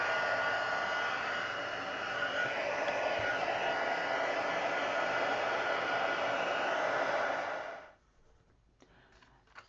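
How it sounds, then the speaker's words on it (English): A heat gun blows a steady, loud rush of hot air for about eight seconds while crafting an art journal collage, then cuts off abruptly, leaving a quiet room with faint small noises. "I'm going to get my heat gun and heat it up before I take it to the page."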